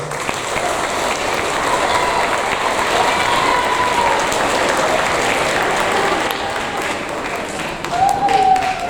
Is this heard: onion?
no